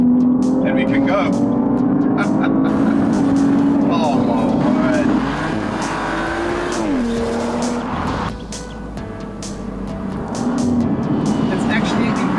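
Audi RS4 with a ZF eight-speed automatic accelerating in sport mode, a loud engine note rising and shifting pitch up close, with an exclamation spoken over it.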